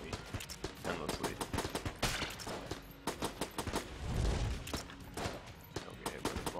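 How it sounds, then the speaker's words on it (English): A turret fires endlessly in the video game Enter the Gungeon, making rapid continuous gunfire with sharp shots and heavier booms layered over one another. "The turret. I was like, what is shooting at me endlessly?"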